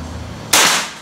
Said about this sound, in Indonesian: tembakan pertama poin ya